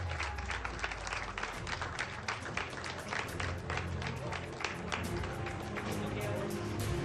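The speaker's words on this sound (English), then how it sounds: "put your hands together" A large golf tournament crowd applauds steadily with dense clapping and cheers for the final-round winner, while a voice talks over the noise.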